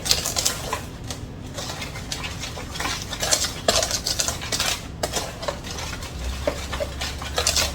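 A whisk beats chocolate cobbler batter in a bowl, giving rapid, irregular clinks and scrapes close by, with no talking.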